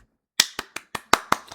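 Six brisk hand claps in a quick, even rhythm after a short silence, close and crisp, followed by a softer seventh clap.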